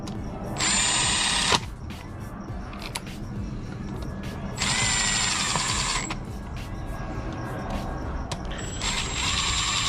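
An impact wrench runs nuts down onto engine studs during a Mitsubishi EVO X 4B11 crankshaft install, giving three loud rattling bursts of a second or more with mechanical clatter between them.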